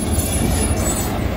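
A large freight train rumbles past near the railroad tracks in Tehachapi, a steady loud low roar of rolling wagons with faint wheel squeal, continuous and close.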